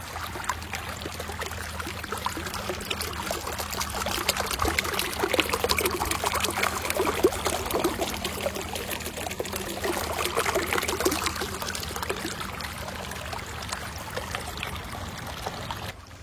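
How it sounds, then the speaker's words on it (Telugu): Floodwater from heavy rains pouring off a road into a pond near a temple, a continuous close rushing trickle that holds steady throughout, with no voices. "విన్నారు కదా వాటర్ ఫ్లో సౌండ్ అయితే ఎంత బాగుందో వినటానికి"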